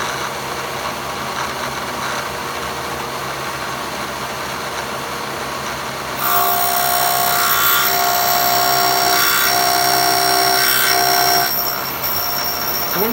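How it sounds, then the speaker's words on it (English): A lathe or milling machine cuts a metal Floyd Rose guitar tremolo block, giving a steady machine drone that turns louder and adds a bright tonal whine midway before easing back, with no talking. "When you're machining metal, you gotta listen to it."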